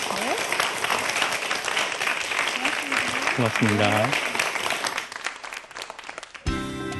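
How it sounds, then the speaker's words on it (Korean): Audience applause following a university lecture on human motion simulation, dense clapping filling most of the clip with voices talking over it, then fading as a speaker begins. "여러분 박수 한번 부탁드리겠습니다"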